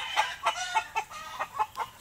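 Gamefowl chickens on a farm cluck in short, repeated bursts, about eight quick calls evenly spaced at moderate distance, with no voices over them.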